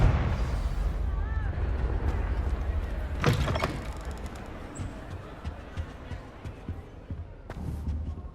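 A Confringo fire spell in Hogwarts Legacy goes off as one sharp blast about a third of the way in, over a steady low rumble of game ambience with smaller impacts trailing afterward.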